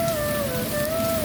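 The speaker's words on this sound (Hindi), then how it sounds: "बारिश हल्की हल्की है" Light rain falls steadily in a close, dense patter, with a faint tonal line running through it and no voices.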